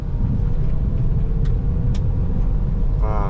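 A 2010 Toyota Vios 1.5 G automatic idles steadily just after starting, a continuous low engine rumble filling the whole stretch with no talk over it.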